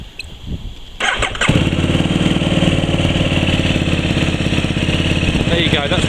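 A KTM RC8 motorcycle engine cranks briefly and catches, then settles into a loud, steady idle close by for several seconds.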